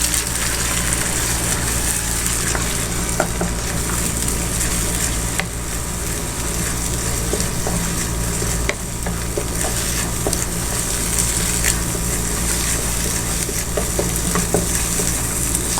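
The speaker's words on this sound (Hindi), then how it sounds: "और इसको अच्छे से हिलाते जाएंगे।" Eggs sizzle steadily in a hot pan while being stirred, a continuous close frying crackle with soft scraping and no voices.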